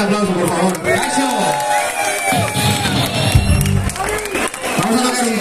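A crowd at a metal concert cheers, whoops and claps loudly, with shouting voices rising and falling over dense applause and some booming stage noise.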